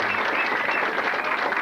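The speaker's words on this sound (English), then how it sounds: "let's give Phil a round of applause" Audience applause at a local guitarist contest night, a steady, dense wash of clapping that fills the short moment evenly at moderate loudness.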